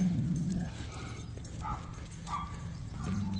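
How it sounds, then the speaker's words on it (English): A dog lets out a low rumbling growl at the start and again at the end, with quieter noises in between. "Don't growl at me."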